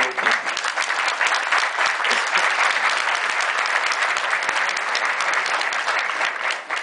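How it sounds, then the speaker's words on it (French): An audience applauds a consul general at a gathering of the Haitian diaspora, loud sustained clapping from many hands, dense and even throughout with scattered sharp individual claps. "je vous demande de l'applaudir"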